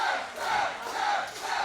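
A wrestling crowd at an independent VWC Ignite triple threat match, rising in surging, chant-like waves of cheering for Chaz Price, loud and sustained with rhythmic swells.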